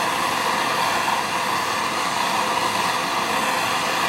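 A torch flame heats metal for an aluminum brazing rod repair on a car subframe, a steady, continuous roaring hiss close by with no break or change in level.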